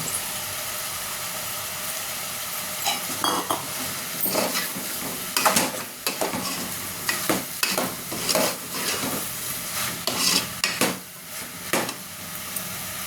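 Cut okra tossed into a pan of raw prawns for a curry, stirred with scraping and crackling sizzle that rises and falls in bursts, close and fairly loud with no talking.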